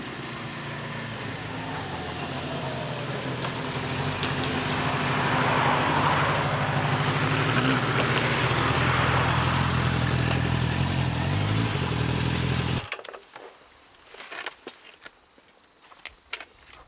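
A Honda CB400Four motorcycle engine runs steadily and loud for about thirteen seconds, then cuts off abruptly, leaving faint scattered background sounds.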